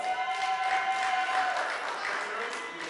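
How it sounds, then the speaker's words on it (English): Church congregation applauding after a performance at a Seventh-Day Adventist service, a steady moderate patter of many hands filling the space with a sustained tone running beneath, fading slightly toward the end. "Let's give them another round of applause."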